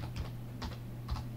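Three short bursts of typing on a computer keyboard while entering country names into Excel cells, faint and close over a low steady hum.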